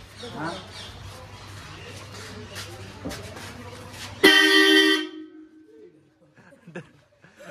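One loud, sustained tractor horn blast rings out close by for under a second, following a stretch of muffled voices and rumbling background noise.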